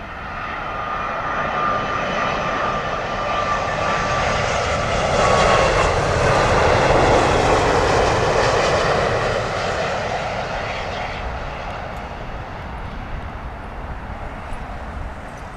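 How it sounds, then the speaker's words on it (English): A British Airways Airbus A380 arriving on runway 27L at London Heathrow, a loud engine roar that swells to a peak mid-way as it passes and then slowly fades. "landing any second, and right behind this one is already the Airbus A380"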